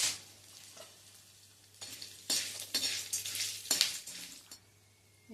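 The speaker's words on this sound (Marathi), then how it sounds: "यामध्ये मी घालते 10 ग्रॅम काळी मिरी, 10 ग्रॅम लवंग." Black pepper, cloves and other whole spices roast dry in a pan. Quiet stirring scrapes come in repeated bursts of rustling over a faint low hum.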